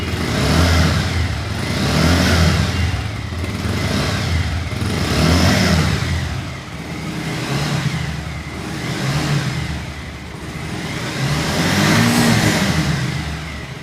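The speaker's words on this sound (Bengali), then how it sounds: "বাইকটা স্টার্ট করে দেখাবো" A used motorcycle engine runs nearby and is revved in repeated swells every couple of seconds, rising and falling over a continuous mid-pitched engine drone.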